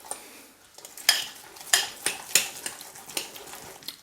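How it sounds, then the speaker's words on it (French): Eggs being mixed into choux pastry dough in a salad bowl, heard as a series of sharp utensil clacks and scrapes against the bowl at a steady, uneven rhythm, close and moderately loud with no talking. "On y met un peu d'œufs et on mélange."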